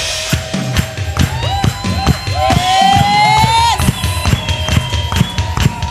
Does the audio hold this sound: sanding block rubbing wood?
no